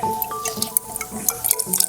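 A chemical solution poured from one container into another in a classroom demonstration, a brief trickle with light drips and liquid splashes, heard alone at close range.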